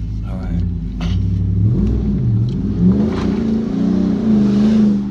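A car engine with a six-speed transmission revs up and down in several surging pulses close by, its deep rumble rising and falling while people talk over it.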